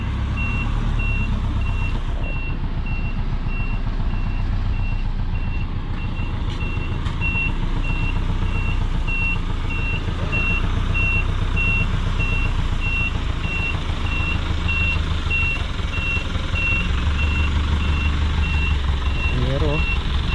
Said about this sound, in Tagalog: So yan, pupwesto lang ni Kuya yung truck